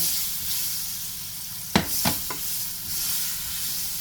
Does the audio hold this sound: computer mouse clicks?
no